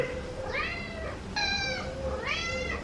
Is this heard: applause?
no